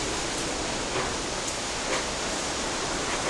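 Typhoon Uwan wind and heavy rain outside a house beside rice paddies, a steady broadband roar of downpour and gusts with no break, filling the whole clip at moderate level.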